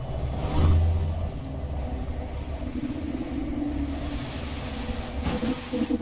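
A car engine in a video game race, a steady mid-pitched roar with a louder surge near the start and a rising rev toward the end, heard alone without talk.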